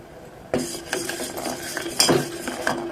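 A spoon clinks and scrapes against a pot while ajwain leaf tea sweetened with jaggery is stirred, giving a series of close, bright metallic taps in an uneven rhythm.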